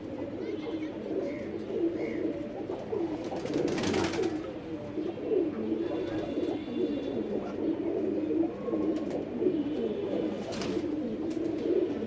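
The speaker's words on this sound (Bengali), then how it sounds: "এটা ঘরে কবুতর" A loft of domestic pigeons cooing steadily, overlapping low throaty calls close by, with a couple of brief rustling bursts and no clear talk.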